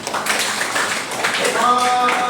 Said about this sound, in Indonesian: Boleh tepuk tangan dulu untuk kelompok 5.